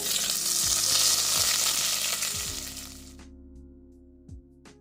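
Curry leaves, mustard seeds, fenugreek and cumin sizzle in hot oil for a sambar tempering, a loud steady crackling hiss that fades out after about three seconds, leaving quiet stirring clinks.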